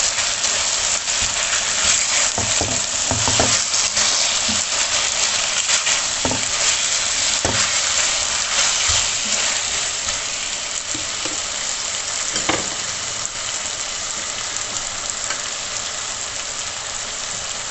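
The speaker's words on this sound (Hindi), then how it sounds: "उन्हें चॉप करके डाल दूंगी और इनकी भुनाई करूंगी 2 से 3 मिनट के लिए।" Chopped medium tomatoes fry in a pan with a continuous dense sizzle, while a spoon stirs and scrapes against the metal in repeated clacks and scrapes, close up and alone.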